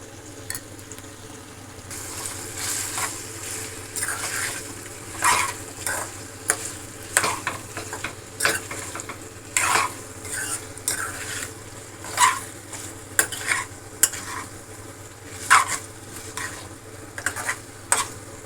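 Chicken fry with chilli powder sizzles in a pan while a spoon stirs it, giving irregular scraping and clacking strokes over a constant frying hiss.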